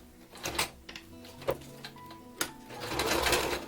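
A sewing machine runs a straight stitch around the edges of a Velcro patch on fabric, heard as quiet bursts of rapid mechanical clatter with short pauses and a few clicks, close by and without talk.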